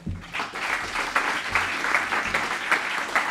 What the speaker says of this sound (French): Vos applaudissements pour remercier le Club suisse de la presse de nous avoir accueillis